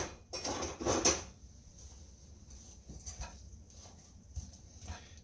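Salisbury steak meat mixture with tomato paste being mixed in a bowl: a short burst of scraping and clinking at the start, then faint soft squishing and occasional light knocks.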